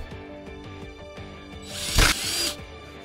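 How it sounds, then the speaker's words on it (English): A power drill whirs briefly into a hollow gourd, drilling a 1-inch hole, a loud burst of grinding after soft mechanical clicks. "Drill a 1-inch hole in the spot that you marked."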